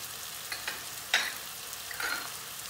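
Tomatoes with chilli flakes, salt and black pepper sauté in a pan while cooking aubergines, giving a soft, constant sizzle with a few faint clinks and scrapes of stirring.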